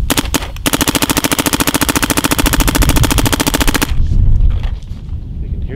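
A Dye M3s paintball marker fires in a rapid, even burst of sharp pops for about three seconds after a few single shots, loud and close outdoors, then wind noise and handling remain.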